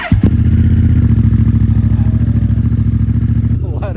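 A Honda Africa Twin motorcycle with a BT Moto stage 1 tune cranks and fires up, then settles into a loud, steady, throbbing idle close by, its twin-cylinder pulses running evenly until a faint voice near the end.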